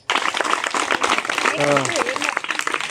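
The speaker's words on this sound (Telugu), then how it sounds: "మన క్లాప్స్ కొట్టండి ఒకసారి" Village schoolchildren clap together in a burst of dense, scattered handclaps mixed with overlapping voices and chatter, starting abruptly and continuing to the end.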